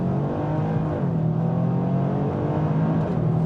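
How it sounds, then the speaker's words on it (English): A 2025 Toyota GR Yaris three-cylinder engine drones steadily at moderate revs, a continuous low rumble with a buzzy edge that holds without a break. "the 3-cylinder, it does sound quite good"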